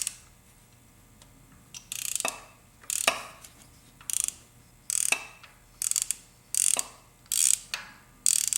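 A ratchet socket wrench loosens tight spark plugs on a Kei car engine, giving a series of sharp, close ratcheting clicks in short bursts with brief pauses between strokes.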